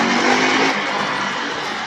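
A car driving along a road, a loud, close, continuous engine and road rush that eases slightly over a couple of seconds.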